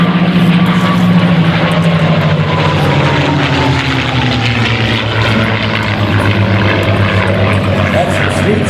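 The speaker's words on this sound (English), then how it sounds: "Look at the speed of the Doolittle bomber, of the P-38 that is." A P-38 Lightning warbird propeller fighter roars past at an air show, loud and close, its twin engines droning with a tone that slides steadily lower as it passes.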